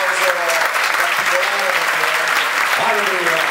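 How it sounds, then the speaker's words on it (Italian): Loud, steady audience applause at the 2020 Festival della Comunicazione, a dense wash of clapping that runs the whole time while a voice speaks over it. "sono molto contento che c'è il mio caro Mike, un applauso"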